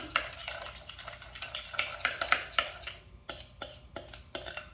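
A whisk scrapes and clinks rapidly through sugar scrub with grated orange in a bowl, a close, busy rhythm of gritty strokes with no speech.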